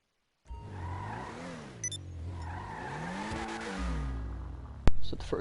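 A Ubermont car in a video game drives along with a steady, revving engine whose pitch rises and falls through gear changes, with brief tire squeals and a sharp impact-like burst near the end.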